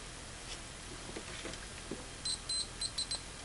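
A ToolTop ET75 process meter sounds short continuity-test beeps from non-gold-plated probes, an uneven, scratchy run of brief high chirps late in the clip over a quiet hiss.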